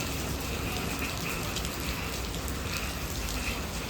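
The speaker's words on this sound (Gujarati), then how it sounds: "ફૂલ જોરદાર વરસાદ ચાલુ છે" Heavy rain pouring down steadily near Trimandir in Ahmedabad, a dense constant hiss of falling water with no voices.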